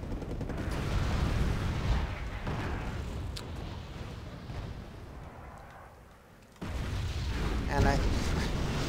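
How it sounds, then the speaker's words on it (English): Artillery fire in the video game Wargame: AirLand Battle rumbles in heavy, repeated booms and blasts, dense and loud, briefly thinning before another surge, with someone talking over the barrage. "See here the enemy dropping artillery on my M1A1 here"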